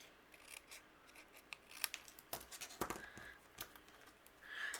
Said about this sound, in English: Let's trim that off with our scissors.